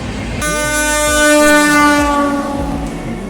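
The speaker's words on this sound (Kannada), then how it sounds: "ನಾನು ತೆಳಗ ಯಾವುದೋ ಟ್ರೈನ್ ನೋಡ್ರಿ" A train passes close by, loud rumbling wheels under a long sustained horn blast that swells and then fades slightly.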